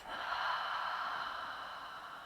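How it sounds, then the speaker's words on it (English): A slow, steady exhale out through the mouth during a guided meditation: one soft, breathy rush of air, close and even, lasting a couple of seconds with no talking. "And exhale out through the mouth."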